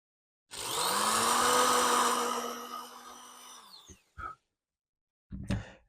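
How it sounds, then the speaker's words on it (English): Power drill boring a hole into a guitar headstock, a steady loud whir for about three seconds that winds down, followed by two short bursts of drilling or handling noise. "let's now drill a hole."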